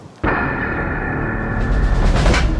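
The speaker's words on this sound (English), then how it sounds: "I've never seen a chunk of concrete my weight fired from a cannon." A high-pressure concrete pump blasts a large chunk of concrete out of its line, a sudden loud explosive bang followed by a sustained roaring rush that swells again near the end.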